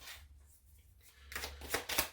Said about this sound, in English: So let's scoot this off to the side and let's shuffle and pull some cards.